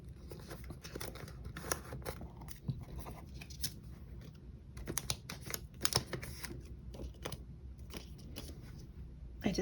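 K-pop photocards, including gold and black cards, slipped into plastic binder sleeves, making a run of close, crisp clicks, rustles and papery shuffles that come in uneven bursts over a soft steady background.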